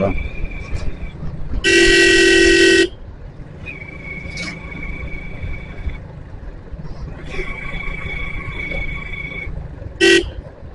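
A loud, sustained vehicle horn blares for about a second on a rough market road, then a short second honk follows, over steady engine rumble and background noise.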